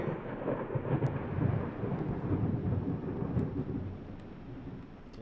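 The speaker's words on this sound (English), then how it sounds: "Thunder." Low rolling thunder inside the horror game Layers of Fear, a steady deep rumble that swells and fades over several seconds with no talk over it.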